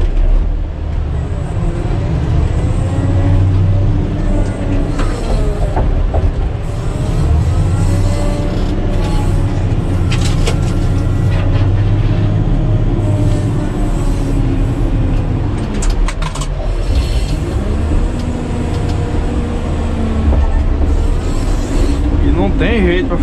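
A Caterpillar 120K motor grader with its blade raised climbing under load, a steady loud diesel drone with shifting engine pitch and clanks throughout, close to the microphone.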